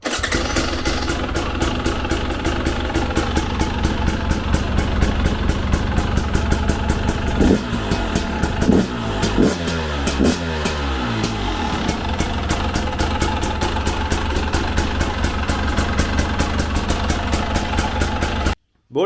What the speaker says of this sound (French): on fait un petit démarrage parce qu'elle a jamais démarré.